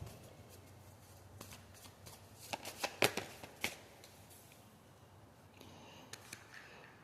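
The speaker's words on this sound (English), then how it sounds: "Let's pull some clue cards." Playing cards being shuffled, with a cluster of crisp riffling bursts in the middle and scattered softer card flicks before and after, close and fairly quiet with no talking.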